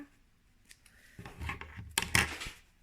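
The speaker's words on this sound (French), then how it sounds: "On coupe tous les fils qui dépassent." Scissors snip loose threads from a fabric face mask, giving a few close, crisp cuts spaced irregularly, with the last snips sharper and louder.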